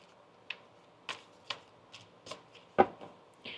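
Quick crisp riffles of tarot cards being shuffled, several short bursts spaced irregularly, close and fairly quiet, with one sharper slap near the end.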